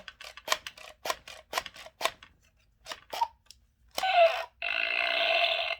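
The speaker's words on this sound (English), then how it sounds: "and then he would actually make a fart sound" An electronic Pull My Finger toy plays a string of short buzzy bursts, then finishes with a longer, loud, raspy electronic fart noise, heard up close with no talking.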